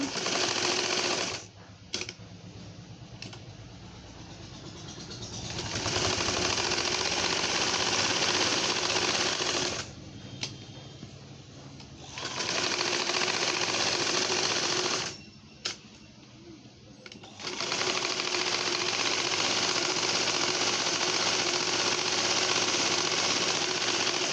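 Sewing machine stitching a frilled burqa, running in several long loud rattling bursts separated by short quieter pauses, close and steady.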